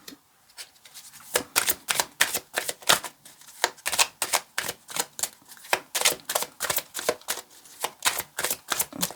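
A deck of tarot cards is shuffled close up, a rhythmic series of crisp riffling bursts repeated over and over in near silence.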